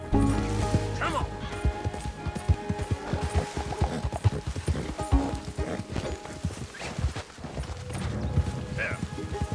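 Hooves clop rapidly on hard ground with a horse snorting and whinnying in Red Dead Redemption II, mixed with music and bursts of game sound effects.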